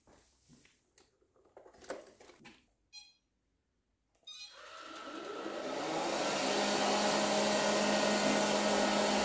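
A Silvercrest SSWR A1 robot vacuum cleaner with mop function starts its mapping test: a few quiet clicks and beeps come first, then the motor kicks on and settles into a steady, loud whirring hum.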